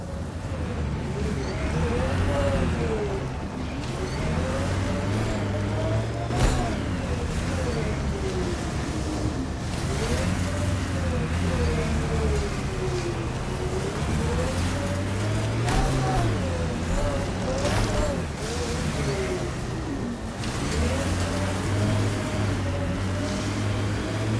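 An exploration vehicle driving across terrain in Mass Effect: Andromeda, a loud continuous engine drone that rises and falls in pitch as it accelerates and turns, with a few thumps from rough ground.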